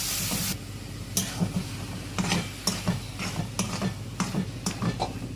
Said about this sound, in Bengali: এবারে ভালো করে এটাকে একটু মশলাটাকে এর সাথে মিশিয়ে নেব